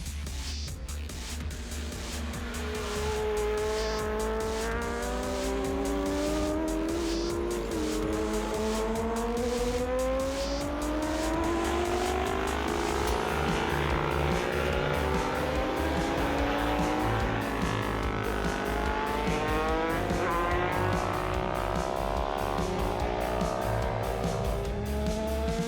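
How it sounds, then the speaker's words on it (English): Diesel trucks do burnouts at the 2012 four-wheel jamboree in Lima, Ohio, with loud sustained engine roar, rising revs and tyre squeal, and dense crowd-like noise throughout. "the 2012 four-wheel Jamboree roared with burnouts and chaos"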